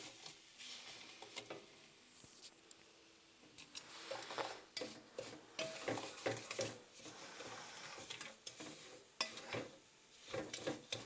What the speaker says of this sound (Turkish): bu irmik hemen yanabiliyor sürekli karıştırmamız lazım